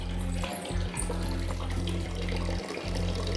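Water runs from a household tap in a steady, close stream, briefly interrupted a few times, with a low motor-like hum underneath and no speech.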